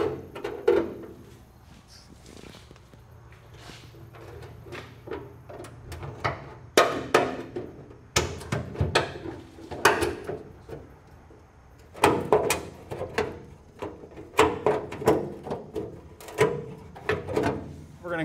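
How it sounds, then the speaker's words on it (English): Hand snips cutting through a steel tubular cross beam on a 2012 GMC Sierra truck frame, a series of sharp metallic crunching clips in uneven bursts, close and moderately loud with brief pauses between cuts. "We're just going to use our snips to cut it out."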